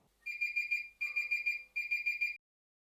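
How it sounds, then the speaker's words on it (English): A decibel sound level meter beeps in three rapid warbling bursts, high-pitched and close, then falls silent. "my dB meter seemed to stop working and started beeping at me"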